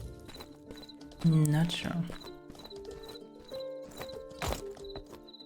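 Horse neighing with hooves clip-clopping in the video game Mortal Online 2, a loud whinny near the start then steady hoof steps, with a person talking over it.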